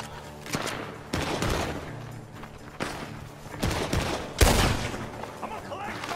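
Gunfire from a barn in Red Dead Redemption 2 cracks out in scattered bursts, several loud shots in irregular succession over a constant rumbling game background.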